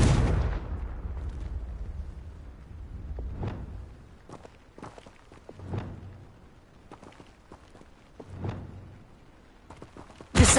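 Confringo fire spell cast in the video game Hogwarts Legacy, heard as several separate booming blasts spread across the stretch, each a short burst with a rumbling tail, alongside scattered light footsteps.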